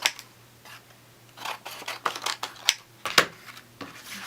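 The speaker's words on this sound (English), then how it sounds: "With my big honking scissors." Large scissors cut through paper in a run of quiet, crisp snips and rustles at close range, irregularly spaced over a few seconds, with no talking.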